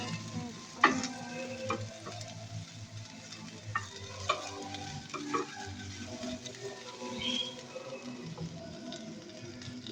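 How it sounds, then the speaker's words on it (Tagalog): Kosa, a cabbage-like leafy vegetable, is sautéed in a pan for Filipino-style canton noodles, with intermittent spatula taps and scrapes over a soft, continuous sizzle. "Yan, igisa pa rin natin siya."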